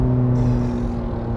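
A 2009 Ferrari 430 Scuderia engine drones loudly inside the cabin at about 4,000 RPM, a steady, booming low-pitched roar with no sound deadening to soften it.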